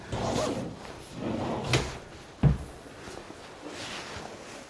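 A built-in chest of drawers in the small room of a newly built villa is opened and closed, giving a few soft wooden slides and one sharper knock near the middle, close by, with no talk.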